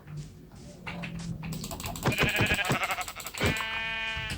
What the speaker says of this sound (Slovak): To je ovca.